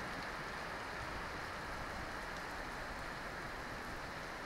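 Heavy rain pouring steadily during a motorbike ride home, a dense, constant hiss with no pauses, loud and close throughout.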